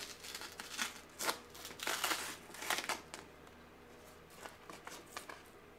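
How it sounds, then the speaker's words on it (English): Adhesive tape run over quilting fabric during machine embroidery, several close crinkly rubbing and tearing bursts in short groups, then quieter. "I also need to take my tape and run my tape again."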